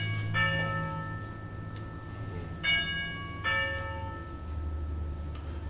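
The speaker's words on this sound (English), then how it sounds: "you push the doorbell" A doorbell chimes three times, each a clear bell-like ding fading quickly, fairly quiet over a low background hum.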